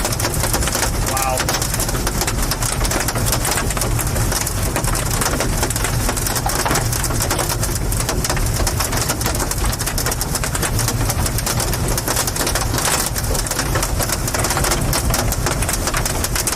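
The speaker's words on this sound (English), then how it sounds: "Big wind-driven hail here." Big wind-driven hail pelts down on a high plains storm chase amid roughly 80 mph winds, a dense, continuous roar and rattle of impacts filling the clip loudly from start to finish.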